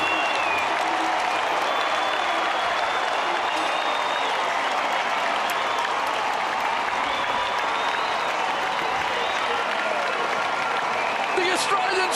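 Stadium crowd cheering and applauding after Australia's winning goal in a Champions Trophy field hockey final, a dense, steady roar throughout with a commentator's voice underneath.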